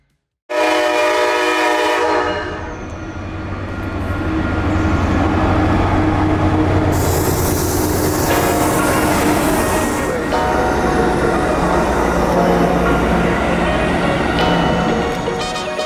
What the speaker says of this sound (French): fallait se douter que se garer à côté des rails allait être bruyant